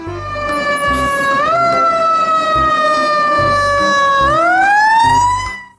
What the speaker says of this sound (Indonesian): lihat teman-teman, yang ini truk pemadam kebakaran